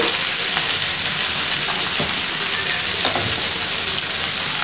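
Onions fry in a pan for arai keerai poriyal, giving a loud, close, unbroken sizzle with crackling bursts and a few stirring scrapes.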